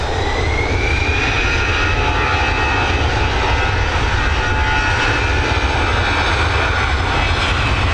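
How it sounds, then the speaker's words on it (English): An Aer Lingus Airbus A320 jet at Dublin Airport, a loud steady engine roar with a faint rising whine, continuous and close for the whole stretch with no voices. "we've got this Airbus A320 operated by Aer Lingus"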